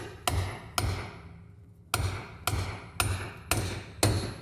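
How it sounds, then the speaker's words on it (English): Steel hammer blows drive a bearing race onto a Dana 44 axle, seven sharp ringing strikes in an uneven rhythm with a pause midway, each leaving a metallic ding that decays quickly, close and loud with no talk. "You'll know when it seats, you'll hear a pretty good ding."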